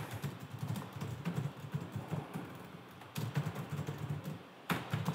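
Computer keyboard typing in bursts of quick, uneven keystrokes with short pauses between runs, moderately close and steady, with no voices.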